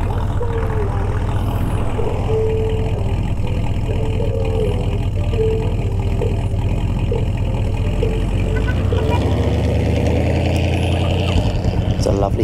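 Old motorcycle engine idling close by, a steady, throbbing low rumble with an even beat that shifts lower in pitch near the end as the bike begins to move off.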